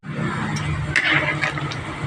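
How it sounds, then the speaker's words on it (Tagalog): A pot of chicken stew with coconut milk and papaya at a boil, giving off a close, steady bubbling and hissing with a few louder gurgles. "kumukulo na ang ating ulam"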